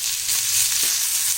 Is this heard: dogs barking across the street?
no